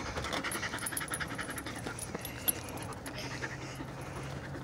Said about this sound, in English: There's my puppy.